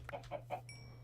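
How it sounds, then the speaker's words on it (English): Chickens in the video game Minecraft cluck three times in quick succession, short and fairly close, before a steady electronic tone takes over. "And I hear more chickens."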